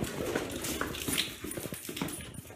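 A female dog moves about and pants close by, with quick scuffling steps and rapid breathing in an uneven run of bursts; no one speaks.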